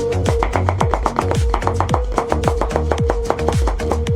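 Kitchen knife slicing leek into rings on a cutting board for homemade chicken and rice soup. Loud, close, steady chops follow in quick even rhythm over a faint constant hum, with no talk.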